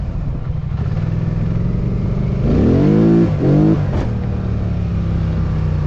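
A stock Polaris Sportsman 850 ATV on 30-inch mud tires idles with a low rumble, then revs hard in two rising bursts during wheelies before settling back, loud and close throughout with no talk.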